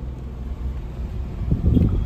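A 2016 Hyundai Grand i10 Sportz diesel engine idles steadily at 1000 rpm, a low continuous rumble that swells a little louder near the end.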